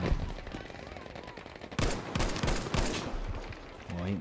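Selbstlader semi-automatic rifle firing in the Battlefield 5 shooter, a run of sharp shots crackling close over dense in-game battle noise, with loud bursts clustering in the second half.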